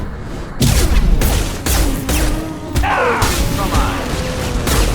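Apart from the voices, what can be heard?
gunfire in the video game Mass Effect 2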